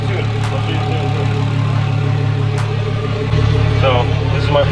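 A Nissan S13 with a swapped RB25 engine runs steadily at a loud, close idle, its low drone stepping up louder near the end as the revs rise slightly, with a few faint voices in the background.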